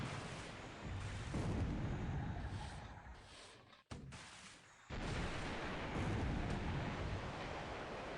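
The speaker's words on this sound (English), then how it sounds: "But here is now the first 5-inch shell hit." Naval 5-inch and 8-inch shell hits and explosions from the War in the Pacific video game roar as a dense, loud blast that breaks off abruptly, then resumes with a sustained crash.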